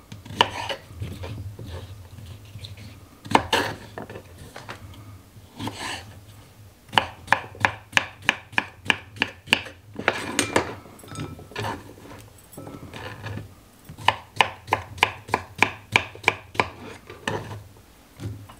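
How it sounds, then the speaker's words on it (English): A knife slices peeled mini cucumbers on a cutting board, producing crisp, close chopping taps, first scattered, then in fast, even runs of rhythmic strikes. "now I'm just gonna slice them up"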